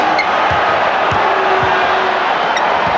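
Steady roar of a basketball arena crowd during a 1993 NBA Finals game between the Phoenix Suns and Chicago Bulls, a loud, continuous wash of voices with occasional sharper shouts and bounce-like thumps underneath.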